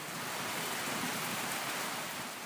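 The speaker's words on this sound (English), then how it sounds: "The incessant monsoon rains haven't stopped in Madan Pokhara for the last few days." Heavy monsoon rain in Madan Pokhara, Nepal, falling steadily as a dense, continuous hiss of loud, broad noise with no voices.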